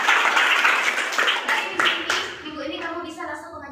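Applause from an audience at a company team meeting announcing new managers, starting dense and loud then thinning into scattered claps as a voice carries on over it.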